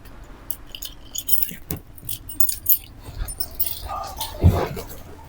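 Car keys jangle briefly as they are handed over indoors, with a dog whimpering and yipping nearby and faint voices in the background.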